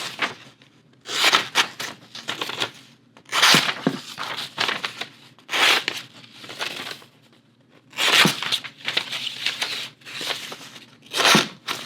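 A CRKT Provoke folding karambit knife slicing through paper, giving repeated bursts of crisp tearing and rasping strokes in an uneven rhythm, close and fairly loud with short pauses between cuts.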